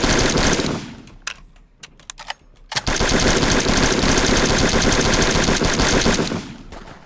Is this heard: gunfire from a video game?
yes